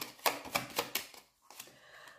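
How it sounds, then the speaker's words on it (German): Tarot cards being shuffled briefly in a few quick, crisp papery riffles close up, four sharp slaps followed by softer rustling, quiet and without speech. "Die mischen wir auch noch mal kurz."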